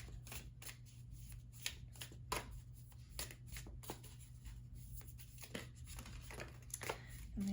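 Tarot cards being shuffled by hand in a quiet room, a steady run of soft riffling and slapping card sounds repeating close up with no talking.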